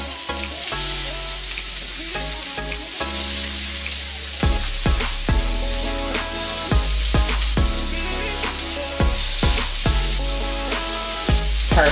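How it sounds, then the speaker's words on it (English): Lamb chops sear hard in a very hot pan, a loud continuous sizzle and crackle with sharp pops and spits bursting through it, close up and without any talk. "You hear that sear?"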